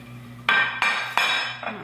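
A small glass container clinks three or four times against metal kitchen trivets, each sharp, close strike ringing briefly and fading in a quiet kitchen.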